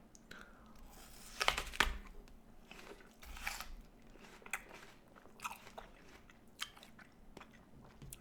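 Crisp bites into a crunchy Gala apple, followed by wet, crackling chewing, close and quiet with a few louder crunches and no talk.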